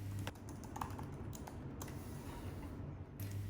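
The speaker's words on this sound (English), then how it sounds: "I can type just as fast on the Magic Keyboard as I can on most laptops." Rapid typing on an Apple Magic Keyboard attached to an iPad Pro, a quick stream of soft, close key clicks over a low steady hum.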